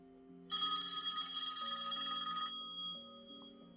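A very old rotary telephone rings, a bright electric bell trill lasting about two seconds over a faint sustained background tone, with no talk.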